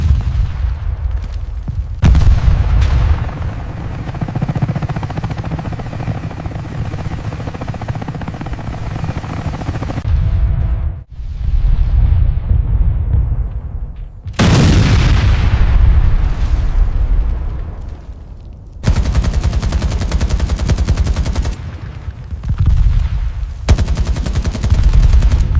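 Battle sounds roar loud and close: heavy bursts of gunfire and booming blasts over a continuous dense rumble, with sudden cuts between intense sections and no clear speech.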